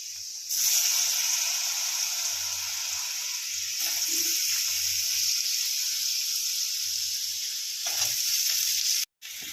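Potatoes dropped into a pan of browned frying garlic, with a steady loud sizzle throughout, brief stirring clinks and scrapes in the pan, and no talking.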